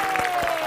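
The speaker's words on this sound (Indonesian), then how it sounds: "Sebelumnya kita kasih tepuk tangan untuk bintang tamu kita" A studio audience on a morning television talk show applauds a guest: a brief, dense patter of clapping hands, steady and moderately loud, with voices mixed in.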